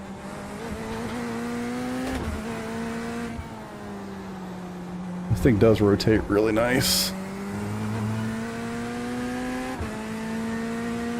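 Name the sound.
GT3 race car engine in iRacing video game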